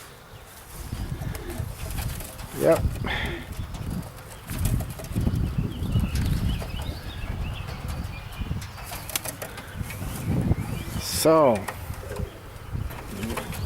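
Young white racing pigeons flutter and flap their wings in bursts nearby, with a few soft coos mixed in, while someone speaks briefly.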